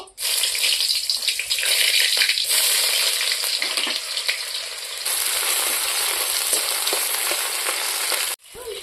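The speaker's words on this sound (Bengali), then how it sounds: "এখন তেলও গরম হয়েছে, তেলের মধ্যে দিয়ে দেবো তেজপাতা, পেঁয়াজ কুচি, শুকনো লঙ্কা দুটো" Bay leaf, chopped onion and two dried chillies hit hot oil, setting off a loud, steady sizzle that fills the clip with dense hiss, briefly swelling and stirring before cutting out near the end.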